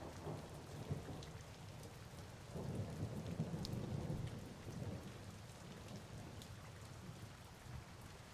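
Steady rain patters on a surface while soft thunder rumbles swell and fade underneath, a fairly quiet, continuous storm ambience with no talking.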